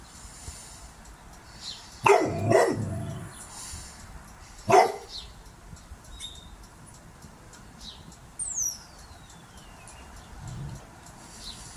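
A young black Labrador lets out a few sharp barks in short bursts, a pair close together, then a single one a moment later, fairly near against quiet outdoor background with faint birdsong.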